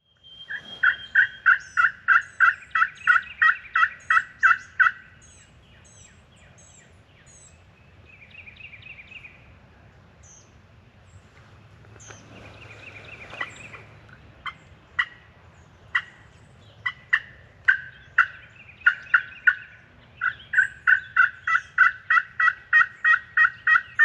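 Wild turkeys gobble in repeated rapid bursts during strut season, loud and fairly close at the start and end with quieter, scattered calls in between, over a low outdoor rumble and no talking.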